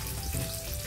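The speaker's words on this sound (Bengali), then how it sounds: "আলুটা আমি লবণ হলুদ দিয়ে ভেজে নেবো ভালো করে।" Potatoes frying with salt and turmeric in a pan make a continuous, even sizzle close by, unbroken and without voices.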